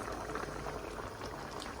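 Tomatoes for a tomato and egg dish simmer in a pot over lowered heat, making a soft, steady bubbling that is quiet and close with no speech.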